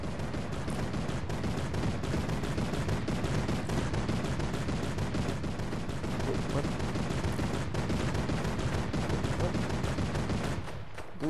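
Continuous gunfire in a Fortnite battle royale match, dense rapid shots crackling without pause for several seconds, moderately loud, with no talk over it.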